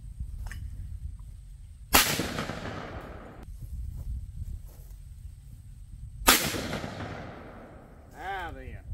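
Two loud, close shotgun blasts from a Franchi Affinity 3 12 gauge inertia shotgun firing light 1 ounce 8 shot loads outdoors, each with a long decaying echo, spaced a few seconds apart.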